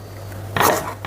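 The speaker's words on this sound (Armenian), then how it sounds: "Սոխը կտրատում եմ" A knife slices through an onion into thick crescent-shaped pieces for a sig whitefish dish, giving one short, close cut and knock against the board in an otherwise quiet kitchen.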